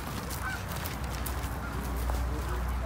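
Geese honk in short bursts over a steady low rumble, fairly close, with a few children's voices faintly mixed in.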